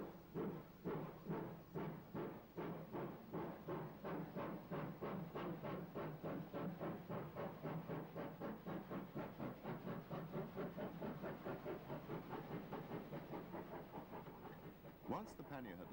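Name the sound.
evening train leaving Monmouth for Chepstow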